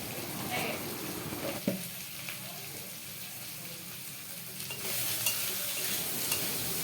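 Sliced onions and chili powder frying in a spice masala, a soft continuous sizzle with occasional stirring scrapes and a brief clatter, fairly quiet throughout.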